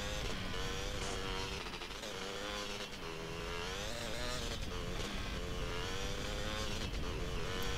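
Motorcycle engine in GTA San Andreas, a continuous revving whine that rises and falls in pitch through the whole stretch at moderate level, with no voices.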